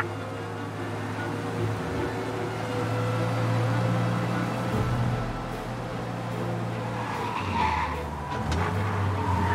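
Car engine roaring at speed with skidding tires during a police chase in the video game Mafia Definitive Edition, a steady loud drone with engine pitch shifts and brief tire squeals throughout.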